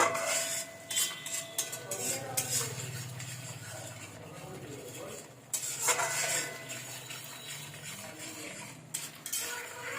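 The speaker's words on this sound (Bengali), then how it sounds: "ভালো করে আমি কষবো।" Vegetables for a vegetarian jackfruit and pointed gourd curry stirred in a pan, with a spoon repeatedly scraping and clinking against the metal over a soft steady sizzle.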